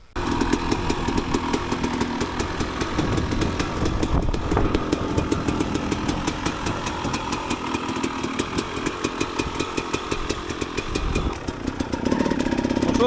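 A KTM EXC 250 dirt bike engine runs steadily and close, a continuous buzzing two-stroke drone with rapid firing pulses throughout and no talk.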